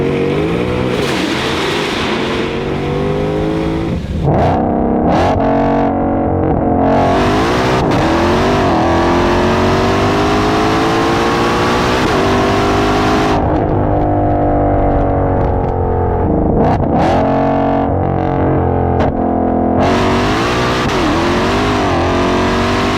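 A 930-horsepower 2020 Shelby GT500 revs hard beneath a bridge, its loud, echoing engine climbing and falling in repeated surges with sharp crackles between blips, close and filling the space throughout.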